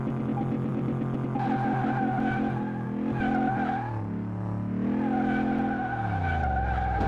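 An Ariel Atom in a car game, engine note rising and falling as the throttle is feathered, with squealing tyres and skidding layered over the drone, loud and continuous.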